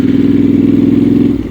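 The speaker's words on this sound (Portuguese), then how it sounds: "A moto porta-se bem a nível de motor" A 2023 Yamaha Tenere World Raid motorcycle engine hums in a steady, close mid-pitched drone while riding, holding an even note with no talking.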